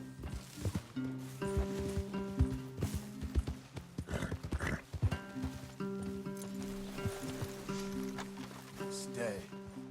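Horse hooves clip-clop over a bed of music in Red Dead Redemption 2, with occasional snorts and voices talking.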